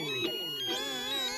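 A mobile phone ringtone plays a bright, looping electronic melody, loud and steady throughout, with no voices over it.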